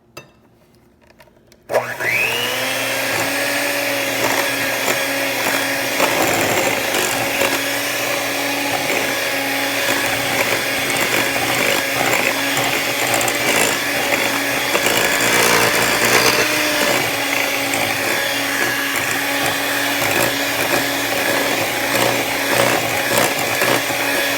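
Eggs beaten in a separate bowl for banana nut bread with an electric mixer: after a brief quiet start, a loud, steady motor whine runs continuously and close by, with no talking.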